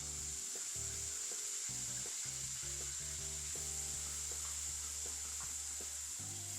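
Onion sizzling and frying in hot browned butter in a pan, a steady loud crackle with intermittent stirring scrapes, no talking.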